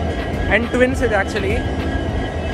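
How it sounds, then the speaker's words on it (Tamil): WDP-4 diesel locomotive number 20062 of Kajipet shed, hauling the Rani Chennamma Superfast Express at a station, gives a steady low engine rumble under someone talking close by. "இன்னைக்கு நம்ம ஹால் பண்ணுற லோக்கோமோட்டிவ் KJM WDP-4 20062"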